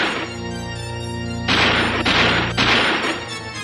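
In a radio drama, a sustained tone is cut by heavy booming cannon blasts, two big crashing bursts in quick succession, loud and close.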